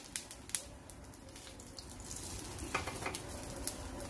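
A Mexican-style vegetarian quinoa burger frying in a heated pan gives a soft, steady sizzle with a few light clicks of the pan and utensil, fairly faint and without speech.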